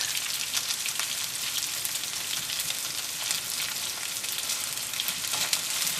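Shallots sauté in hot oil for a Kottayam-style Kerala fish curry, making a dense, even, crackling sizzle that goes on without a break, close and fairly loud, with no voices.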